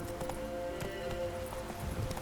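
Roach the horse gallops in The Witcher 3, with a quick, even run of hoofbeats close by over a low background bed.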